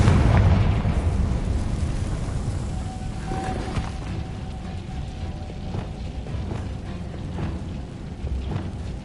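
A Confringo spell blast in Hogwarts Legacy, a heavy booming burst at the start that decays into a long rumbling roar with scattered crackles and debris pops, no voices.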